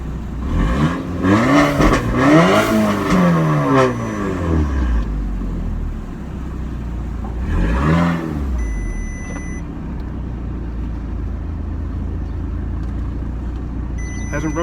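A modified Audi TT drives around the block, its engine revving up and easing off in several close, loud bursts, then settling to a low idle-like rumble with a few faint beeps near the end.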